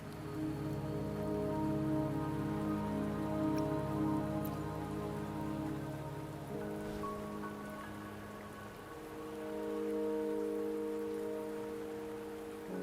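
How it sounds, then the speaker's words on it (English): Rain falls steadily across a mountain path in Wuthering Waves, a dense continuous patter on surfaces that stays moderately loud without any voices. "Don't worry, the rain won't last much longer."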